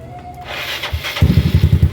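A motorcycle powered by two drill batteries cranks briefly, then its engine catches and settles into a loud, close, even putter.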